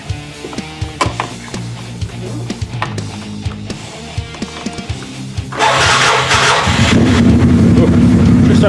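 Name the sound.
2012 Wildcat engine starting up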